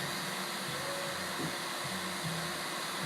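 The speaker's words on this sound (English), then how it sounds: "We have been pulling a vacuum on the system here for about 15 minutes." A vacuum pump runs steadily while evacuating a refrigeration sealed system, giving a constant, even whirring hum with faint whining tones and no speech.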